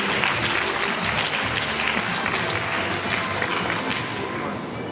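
Strong, dense applause from an audience at a choral festival and competition in Pocheon, greeting the city council chair, a close, steady roar of many hands with faint voices mixed in.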